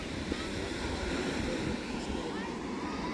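Ocean waves wash against the dark volcanic rocks at Manu Bay, Raglan, on New Zealand's west coast, a steady roaring surf blended with wind buffeting the microphone, with no clear individual breaks.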